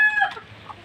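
A brief burst of clucking from mother hens, close and fairly loud, fading quickly into quiet.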